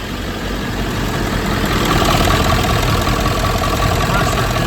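Car engine running with the air conditioning switched on and its compressor engaged, a loud steady idle drone with a constant mechanical hum and faint rhythmic knock, close up throughout.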